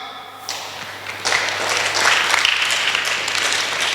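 A church congregation applauds during a sermon, the clapping starting faintly and swelling after about a second into steady, fairly close applause that continues to the end.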